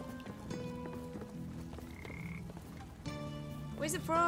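A frog croaks repeatedly inside a video game, its loud, ribbed croaks sounding close over light game music, with a rising squeaky call near the end.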